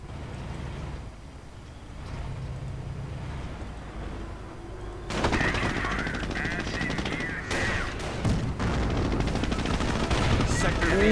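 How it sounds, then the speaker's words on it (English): A .30 caliber machine gun rattles in bursts during a World War II strategy game battle, with a grenade blast and heavier gunfire joining midway, over a continuous layered din. "Grenade goes off against the 30 caliber, killing 2 but not all."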